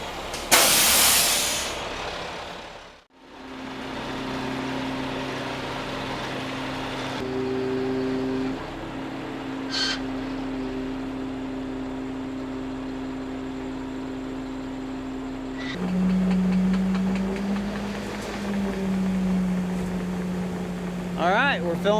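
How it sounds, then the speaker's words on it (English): An auger truck pours hog feed into a feed wagon on a farm, giving a continuous airy hiss over a droning engine hum whose pitch shifts partway through. "All right, we're filling this up with hog feed."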